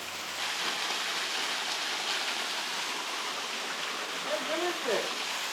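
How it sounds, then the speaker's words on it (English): Robin Falls, a waterfall in Australia's Northern Territory, pours with a steady, close, broadband rush that never lets up, and a faint voice-like sound briefly surfaces near the end. "we've just made it through to the actual waterfall"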